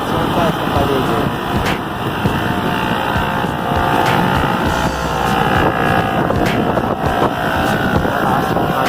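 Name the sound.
strong typhoon wind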